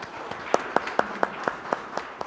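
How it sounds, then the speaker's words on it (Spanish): A university audience gives a rector a brief, sparse round of applause, a handful of distinct hand claps at a steady pace, fairly soft and somewhat distant in a hall. "Un aplauso para él."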